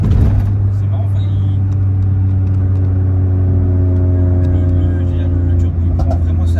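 A Renault Megane with a stage 4 tune revs steadily from inside the cabin, a loud continuous engine drone with a turbo building charge; people talk over it throughout.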